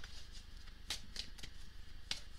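Oracle cards are shuffled by hand close up, soft crisp riffles and flicks in a few quick bursts, quiet and with no talking.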